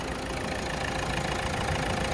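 A 2015 Ford EcoSport Trend diesel engine idles steadily up close, a continuous low rumble with an even, slightly knocking texture and no voices.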